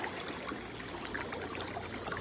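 Stream water trickles steadily through a channel dug in a riverbed, held back by a small dam, as a continuous close bubbling wash with no voices.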